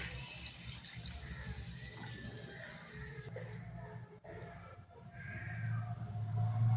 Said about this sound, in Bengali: জল দেবো, আর এটা একটু বেশি জল লাগবে